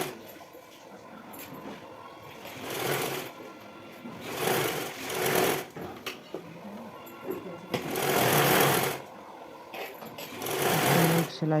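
A sewing machine stitching blouse fabric whirs in several separate bursts of a second or two each, close and steady, with quiet pauses and someone talking between runs.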